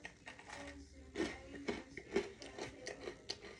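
Someone bites into crunchy homemade chocolate chip cookies, giving several close, crisp crunching bites and chewing sounds spaced through a few seconds, with no talking.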